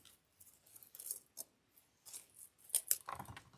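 Scissors snip at Christmas wreath leaves, several quiet, sharp cuts and rustles at irregular intervals, close and faint.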